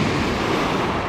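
Sea surf rolling in at Massandra beach in Yalta, Crimea, a steady close wash of breaking waves with some wind rumble, no voices.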